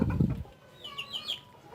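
A bantam Cochin rooster clucks softly in a few short calls, after a brief low thump at the start.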